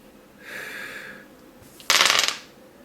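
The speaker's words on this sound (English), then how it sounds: "First, the roll of the dice." Dice are rolled for a divination reading: a soft breathy blow first, then a sharp clattering burst as the dice tumble and rattle for about half a second, up close.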